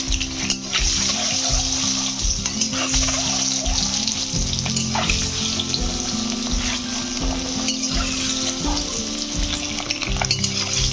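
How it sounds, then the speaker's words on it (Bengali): Boiled eggs frying in oil with salt and turmeric in a wok, giving a steady, loud, close sizzle throughout with occasional stirring and scraping sounds and no talking. "এখন ডিমগুলো ভেজে নিচ্ছি।"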